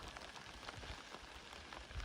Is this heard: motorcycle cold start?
no